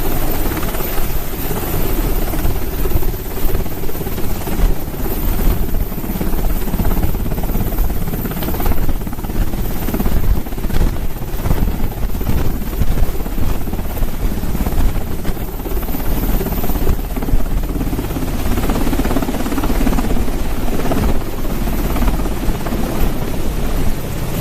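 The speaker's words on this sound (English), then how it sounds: "Check out the MH-6 Nighthawk helicopter making a high-stakes supply run." An MH-6 Nighthawk helicopter flies on a supply run, its rotor a loud, steady, rapid thudding whir over a broad roar that holds for the whole stretch without letup.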